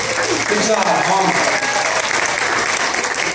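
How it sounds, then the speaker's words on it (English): Audience applause at a baby contest at the Navajo Nation Fair, a steady dense clapping crowd that fills the whole stretch, with voices murmuring underneath. "Give him a round of applause."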